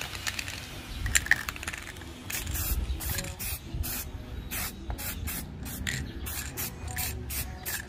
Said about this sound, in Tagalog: Alright, ngayon sprayan na natin ang flat black.